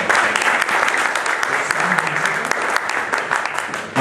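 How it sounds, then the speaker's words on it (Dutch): An audience claps steadily throughout at an evening presentation on sovereignty, a dense, continuous patter of many hands with no pauses. "Applaus voor Bea, mensen"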